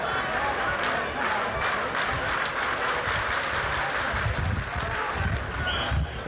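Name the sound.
Leeds rugby league crowd reacting unhappily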